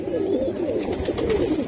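A female pigeon gives a low, rolling coo near at hand, continuous for the short stretch, with a faint voice in the background.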